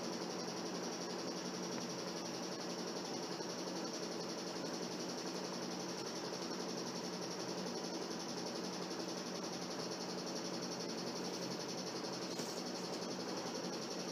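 A sewing machine hums steadily as it stitches sleeve pieces together, a faint, continuous mechanical whir running throughout with no break.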